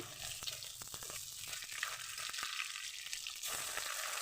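Paisa fish fries in a pan with a soft, steady sizzle and light spattering, fairly quiet and close, with occasional faint clicks of turning.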